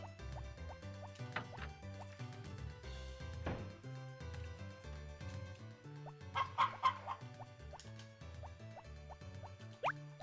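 Chickens in the farming video game Harvest Moon cluck in short repeated calls over a steady, bouncy melodic game soundtrack, with light droplet-like plinks mixed in and no talking.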